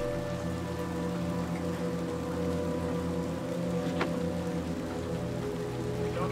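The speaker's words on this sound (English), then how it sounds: "Let the rain come down." Rain keeps pouring in Little Nightmares II, a continuous even wash of falling water over a low ambient game drone, with no voices present.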